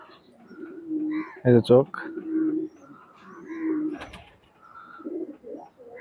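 A new adult Teddy single Maya pigeon coos softly in short rolling phrases close by, with a louder burst and some wing or body noise, while someone speaks briefly.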